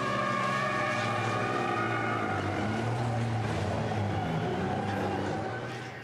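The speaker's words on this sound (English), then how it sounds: "both of them post-race show off their donutting skills in front of the fans" Touring race trucks doing donuts after a race at the Nürburgring in front of fans, a loud sustained engine roar with whining, shifting tones and tire noise, continuous and close, fading slightly at the end.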